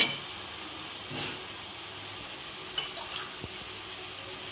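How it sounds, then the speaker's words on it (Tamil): About three tumblers of water run steadily into a cooking pot for tomato rice, with a soft hiss and a few faint clinks along the way. "இது ஒரு 3 டம்ளர் வந்து தண்ணி சேர்த்துக்கலாம்."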